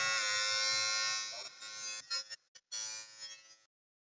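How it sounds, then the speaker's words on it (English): An electric shaver buzzes loudly and steadily at close range for about two seconds, then stutters on and off in short bursts before running again briefly and cutting out. "I'm gonna shave like right now."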